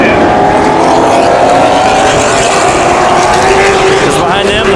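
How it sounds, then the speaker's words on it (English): Late model race cars roar around Havasu 95 Speedway during a 100-lap feature, a loud continuous engine drone with passing cars shifting in pitch. "behind them into turn number 1, the 8 machine gets it to the inside of SEAVEY"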